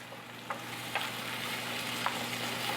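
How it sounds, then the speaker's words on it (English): Food sautés in a pan with a steady, close sizzle, and a spoon stirs it with a few soft scraping knocks over the frying hiss. "So I'm just gonna give this all a good stir."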